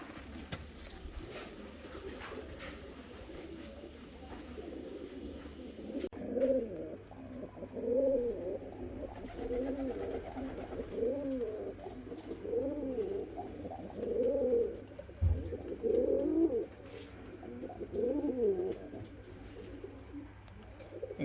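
Show pigeons coo repeatedly in soft, throaty rolling calls, close by, with a low steady background hum.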